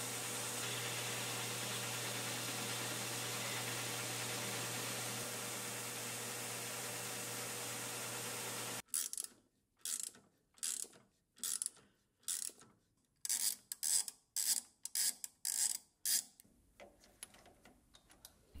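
A metal lathe knurls small brass knobs with an oversized knurling tool, first a steady loud whirring grind, then a run of short, evenly spaced clattering bursts as the tool feeds on and off.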